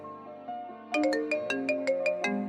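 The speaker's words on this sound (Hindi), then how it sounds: "इसी बीच राहुल की गर्लफ्रेंड का फोन आता है।" A mobile phone rings for an incoming call with a melodic electronic ringtone, a short rising phrase followed by a run of bright, evenly spaced notes, clear and close with no voices.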